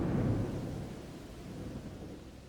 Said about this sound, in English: I have a feeling the thunderstorm will be letting up very shortly.